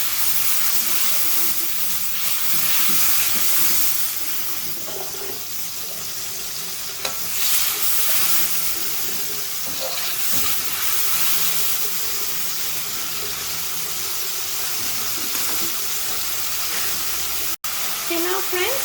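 Tamarind prawn sauce with fried onion bubbles and sizzles steadily in a pan, a constant broad hiss of frying running close and loud throughout, with occasional stirring clinks and a brief sharp knock near the end.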